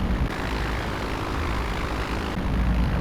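Light aircraft engine in the Flight Unlimited III flight simulator, a steady loud propeller drone and hum that builds slightly in intensity toward the end as the throttle comes up.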